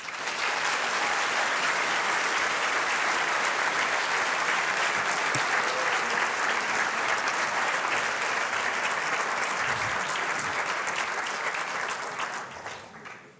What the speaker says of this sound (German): Nochmal einen riesen Applaus für unsere Alpha Weasels